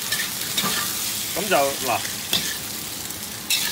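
Beef sizzles and crackles as it is stir-fried in a wok for a Cantonese beef fried rice, with scraping stirs, loud and close, under brief talk.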